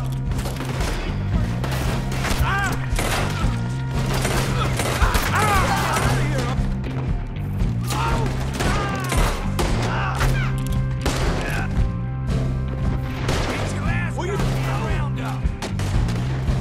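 Shootout gunfire in Red Dead Redemption 2, a steady run of scattered shots and thuds layered under shouting voices and a low droning background throughout.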